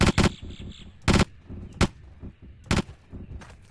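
Pistol shots in Jurassic Park: Trespasser ring out as five sharp, separate reports a second or so apart, loud and close against a quiet background, the early pair fired in quick succession.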